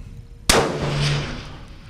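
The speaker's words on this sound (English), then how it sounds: "I'm shooting at plates up on a mountain." A Ruger Precision Rifle firing a handloaded 139-grain Lapua Scenar round at steel plates on a mountainside 500 to 900 yards away: one sharp, loud crack followed by a long echoing tail.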